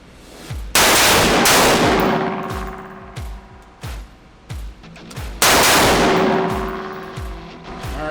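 Rifle shots from a bullpup chassis at an outdoor shooting range: two loud, close cracks several seconds apart, each followed by a ringing tail, with sharp mechanical clacks and clicks of the action in between.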